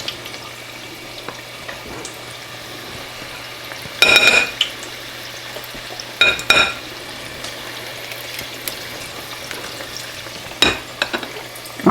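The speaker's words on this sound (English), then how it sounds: "Got 3 in there so far, and they've already started turning a little bit, floating around in the grease." Hushpuppies frying in hot grease give a steady soft sizzle, broken a few times by louder clattering bursts of utensils and pans.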